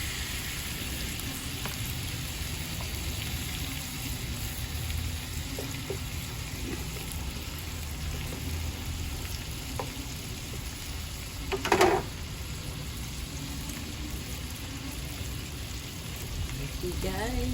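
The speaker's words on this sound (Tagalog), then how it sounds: "We're gonna fry that one first" Chicken rubbed with butter, salt and black pepper fries in a pan with a steady, close sizzle throughout, broken by one brief louder clink near the end.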